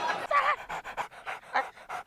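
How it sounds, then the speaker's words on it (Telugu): A dog pants in rapid, rhythmic bursts of breath, close and fairly loud, with no other sound alongside it, on a comedy stage show. "కుక్కొచ్చిందేంటి సార్?"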